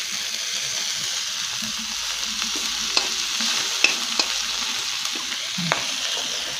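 Cumin, bay leaves and spices sizzling in a little hot oil left from frying a fish head, with a steady bright crackle and a few sharp spatula clicks against the pan, close and alone.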